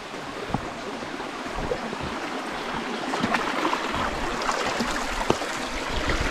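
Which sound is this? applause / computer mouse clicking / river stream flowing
river stream flowing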